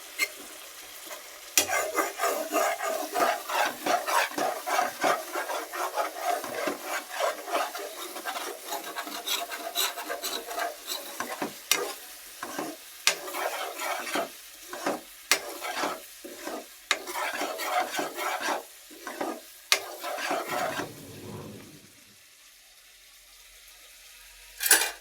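Noodles stirred and fried in a pan: a steady run of scraping, rasping spatula strokes over continuous sizzling, close and fairly loud for about twenty seconds before the cooking noise drops away, with no one speaking.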